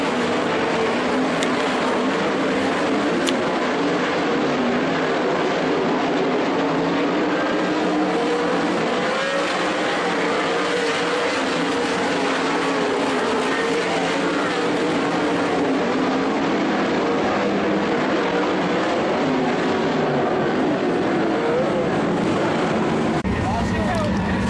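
Sprint car engines roar loud and continuous around the dirt oval at Skagit Raceway, a dense sustained snarl of several cars racing, with a commentator talking over it.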